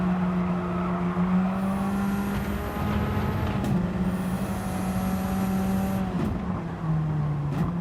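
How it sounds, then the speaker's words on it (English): A Gran Turismo 7 race car brakes hard late into a corner, its steady engine drone dropping in pitch alongside high tire squeal, close and continuous. "Leroy braking really, really late there"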